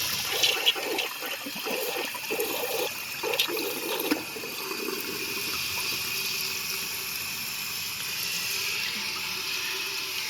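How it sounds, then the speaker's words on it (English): A 2001 American Standard Cadet toilet flushes a dish towel: a loud gurgling rush of water for about four seconds, then a quieter, steady hiss of the tank refilling. "let's see how it does on a dish towel flush 2"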